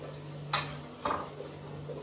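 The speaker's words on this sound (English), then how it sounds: "Stir it up together properly" Two separate clinks of a spoon against a cooking pot as offal is stirred, spaced about half a second apart, close and fairly light over a steady low kitchen hum.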